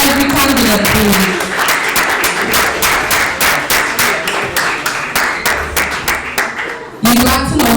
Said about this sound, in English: Can we just give a round of applause to every candidate, please?